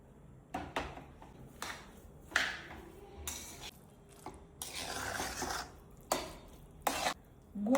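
Puran of cooked lentils with sugar and jaggery stirred over a medium flame, giving scattered scraping and clinking strokes of a spoon against the pot at an uneven pace, fairly quiet and close, with no talk.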